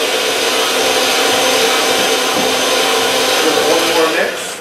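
Electric hand beaters whirring steadily through peanut butter cookie dough, a dense, continuous motor whine held at a constant level before cutting out right at the end.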